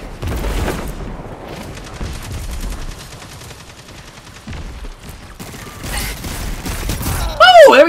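Scout rifle gunfire in the multiplayer shooter Destiny 2, a run of sharp mid-distance shots mixed with other battle noise, bursts of activity near the start and end.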